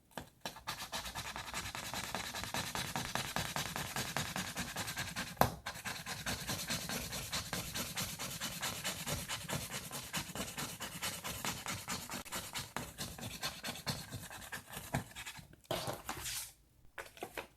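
A scratch-off card is scraped in a steady, raspy scratching that runs continuously with short pauses, close up and fairly quiet, with no talk.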